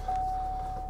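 A seatbelt warning in a GMC Sierra AT4 pickup cab sounds as one steady electronic tone held for under a second over a low, quiet engine hum.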